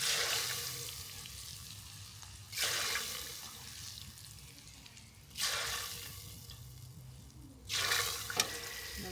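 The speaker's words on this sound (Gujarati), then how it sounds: "લીલા મરચાંનો વઘાર કરી નાખ્યો છે" Green chillies sizzling faintly in hot oil as a tempering, cooked outdoors in a garden, with a soft steady hiss broken by three louder bursts of crackling or stirring.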